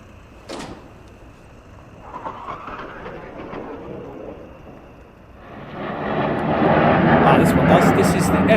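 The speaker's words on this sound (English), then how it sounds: "This is the F-35 arrivals" F-35 fighter jets arrive at RAF Lakenheath, their engine roar building from distant to loud and rushing over the second half, with a voice audible early on.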